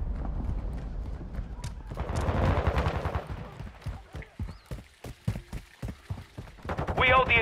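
Bursts of automatic rifle fire in a Call of Duty: Modern Warfare II Team Deathmatch on the Mercado Las Almas map, a sharp rattling run of shots after a dense noisy stretch, with game voice callouts around it.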